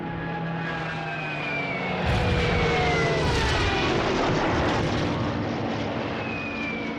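Engines of German Stuka dive bombers over France in June 1940 roar in a dense, loud drone, with gliding whining tones sweeping downward as the aircraft dive.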